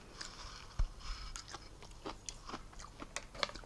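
Close, quiet chewing and crunching of pickled ginger and kimchi, with soft scattered bites and scrapes over a few seconds and no talking.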